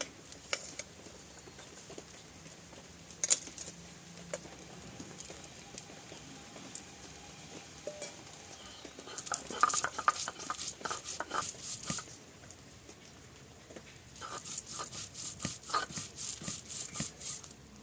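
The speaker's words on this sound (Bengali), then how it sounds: "আদা জিরে মরিচ শুকনো লঙ্কা কাঁচা লঙ্কা আর ধনিয়া একসাথে বেটে নিচ্ছি" Ginger, cumin, dried and green chilies and coriander are ground together into a paste, heard as quiet intermittent scraping, rubbing and knocking in bursts, close and faint, with no talk.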